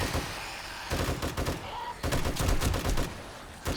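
Automatic gunfire in the zombie survival game 7 Days to Die, rapid bursts of shots in a sustained rattling fusillade, broken by a brief pause before firing resumes.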